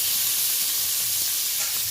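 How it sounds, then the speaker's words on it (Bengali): Green beans sizzle steadily in a hot pan, a constant loud frying hiss with a few soft stirring scrapes, no voices. "অল্প একটু ভেজে নেব।"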